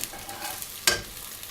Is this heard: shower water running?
no